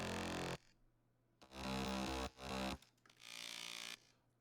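Gritty, layered mid bass from a melodic dubstep drop stack, built from a sample-pack bass under camel crusher and OTT processing, heard as loud sustained bursts that cut in and out with short gaps.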